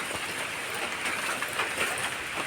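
Steady rain falls in an outdoor rural setting, a dense, even hiss of drops hitting surfaces that runs the whole time at moderate loudness, with no voices.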